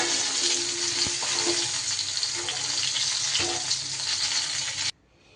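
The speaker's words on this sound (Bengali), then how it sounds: "বেগুনগুলো কিন্তু আমার বেশ সুন্দর করে ভাজা হয়ে গেছে।" Eggplant slices fry in hot oil with a steady, close sizzle that holds evenly for about five seconds, then cuts off abruptly, leaving near silence.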